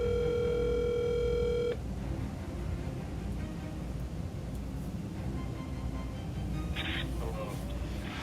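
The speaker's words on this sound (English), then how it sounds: "Okay, he's calling me back." An incoming call on a phone sounds as a brief electronic ring tone at the start, giving way to quiet line hiss and faint background noise.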